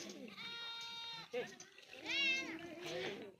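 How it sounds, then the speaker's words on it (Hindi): Beetle goats bleating with several young kids in a farm setting, loud repeated wavering bleats close by, high kid calls mixed with deeper adult cries, with people talking underneath. "काफ़ी बड़ी बकरी है। 3 बच्चे इसने दिए हैं"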